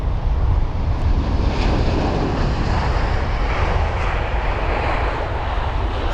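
Airliner landing at London Heathrow with reverse thrust, a loud broad roaring rush of jet engines that holds steady and slowly eases, heard from a distance with some wind buffeting the microphone.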